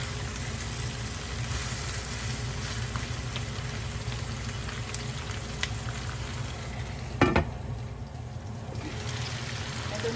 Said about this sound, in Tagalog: Hahaluin lamang po natin ito.